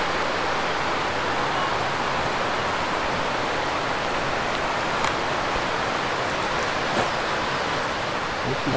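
Steady broadband roar of river rapids around class 3, constant and enveloping, with a couple of faint knocks and no talking.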